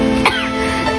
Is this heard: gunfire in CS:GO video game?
no